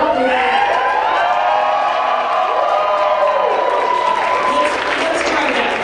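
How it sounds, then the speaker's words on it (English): A convention audience at a Star Trek fan gathering cheers, whoops and claps in a loud, sustained roar, with shouting voices rising and falling throughout. "I need to hear a little noise from the crowd."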